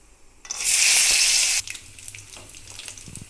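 Nuts and cumin seeds hit hot oil in a sudden loud, hissing sizzle lasting about a second, then settle into a quieter crackle with faint clinks.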